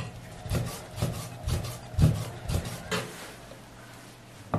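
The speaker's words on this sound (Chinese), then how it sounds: "1块钱的五花肉改刀切薄片" Knife cutting pork belly into thin slices on a wooden board, giving a rhythm of about eight firm, close chopping strokes with short rasping slides between them, with no talk.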